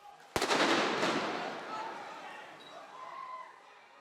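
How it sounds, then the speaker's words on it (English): A stun grenade goes off at a street protest with a single sharp, loud bang, then a long echoing rumble that fades slowly while faint crowd voices carry on underneath. "Quickly dispersed, with tear gas and stun grenades testing their stand."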